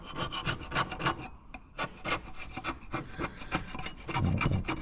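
A hand scraper cuts paint off a Peterbilt truck in a fast series of rasping strokes, close and rhythmic, each one a short gritty scrape with a brief pause partway through.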